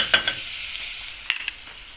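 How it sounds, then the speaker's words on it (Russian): Butter sizzles in a frying pan over low heat, a soft steady hiss with a few brief clicks and crackles, fairly quiet and with no one talking. "Вот оно сейчас пожарится у меня."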